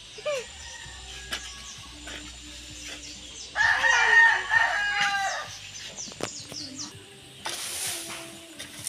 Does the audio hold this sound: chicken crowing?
yes